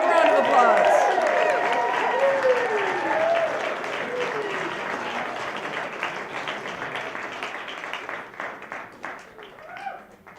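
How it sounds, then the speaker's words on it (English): Audience applauds as a performer comes up to the stage, loud clapping mixed with whoops and hollers at first, gradually thinning to scattered claps. "Big round of applause."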